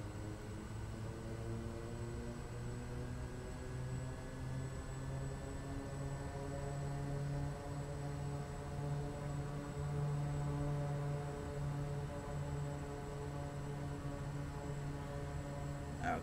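Simulated Daher Kodiak amphibian turboprop engine run-up in Microsoft Flight Simulator: a steady droning hum with layered tones that rise slightly in pitch, continuous and moderately loud throughout.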